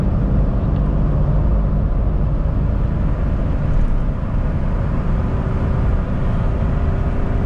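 Nissan Pickup 3.0 Turbo accelerating hard, a steady loud interior drone of engine and road roar filling the whole stretch without pause or speech.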